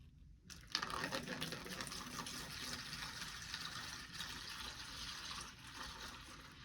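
Sterile liquid is poured into a basin on a surgical back table, giving a steady, continuous splashing pour that starts abruptly and runs without a break to the end.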